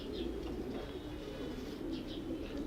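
A racing pigeon coos nearby in a soft, continuous low burble, with light higher chirps breaking in now and then.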